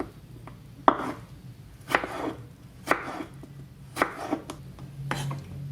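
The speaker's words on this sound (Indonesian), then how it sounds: "Tomat hijau juga diiris." A knife cuts through green tomatoes on a board in a home kitchen, six or so distinct slicing chops spaced about a second apart, close and fairly quiet, with no voices.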